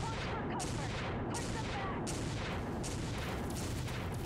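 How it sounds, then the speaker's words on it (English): An AC-2 autocannon on a mech in MechWarrior 5: Mercenaries fires heavy booming shots in a steady cadence, about one every three-quarters of a second, each with a rolling tail over continuous low rumble. "That AC-2 sound though."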